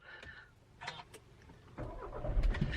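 A car engine cranks briefly after a few faint clicks and rustles, then catches and settles into a steady, close idle rumble that grows louder toward the end.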